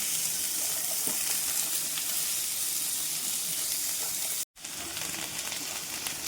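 Fresh pond fish frying for curry as it is stirred in the pan, a steady close sizzle with faint scraping, broken by one brief silence.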